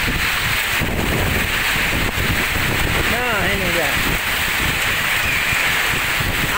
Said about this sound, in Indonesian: bisa disaksikan betapa ngerinya hujan